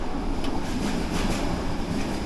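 A Bulgarian passenger train rumbles steadily on the line, a close, continuous low roar with faint rattling on top and no voices.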